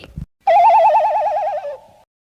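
A warbling electronic phone ringtone trills steadily for about a second and a half, loud and close, after a brief soft knock.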